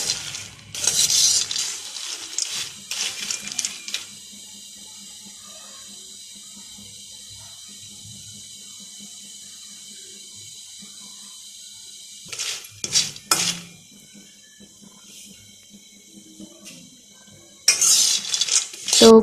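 Peanuts fried in a pan over medium heat and stirred: short bursts of dry clattering rattle near the start, middle and end, separated by long stretches of near-quiet with a steady low hum.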